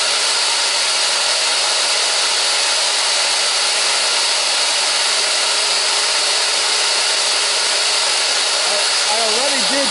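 A power saw cutting wood, running loud and steady close by as a continuous hissing whine for the whole stretch, with no break in the cut.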